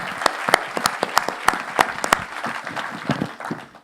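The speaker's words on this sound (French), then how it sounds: "je souhaiterais les applaudir avec vous" A conference audience claps briskly, the dense applause loud and close at first and slowly thinning out toward the end.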